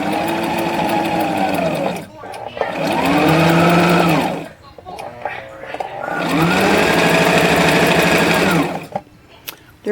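Brother XL-3750 free-arm sewing machine stitching in two loud, steady bursts of rapid mechanical whirring, with short pauses and small clicks between runs, close to the microphone.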